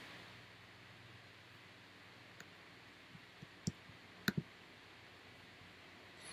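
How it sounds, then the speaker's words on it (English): A computer mouse gives a few faint, quiet clicks in a short cluster, set against a soft, steady background hiss with no talking. "I'm going to right click this and select View Image and Save Image to Downloads"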